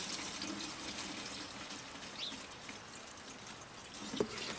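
Paint thinner sloshes and trickles as containers are rinsed out, a faint, continuous liquid wash with a small knock near the end.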